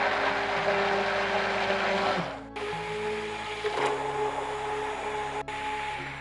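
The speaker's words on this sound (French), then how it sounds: "et j'émulsionne au mixeur plongeon." An immersion blender emulsifies ganache with cold cream in a deep container, giving a loud, steady motor whir that shifts pitch a few times as the blade works through the mixture, with no voices.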